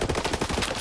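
Rapid automatic gunfire from a weapon in the video game S.T.A.L.K.E.R. 2: Heart of Chornobyl, a dense continuous burst of close, loud shots lasting under a second with no talk over it.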